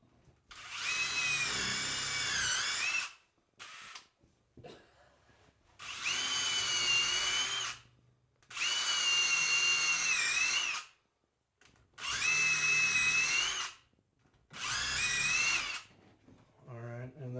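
Several bursts of a power drill whirring into a 2x4 wood fish tank stand, each lasting a few seconds with short quiet gaps between, close and loud.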